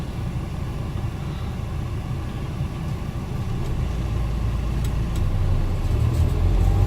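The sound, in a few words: van driving through the centre of Castleton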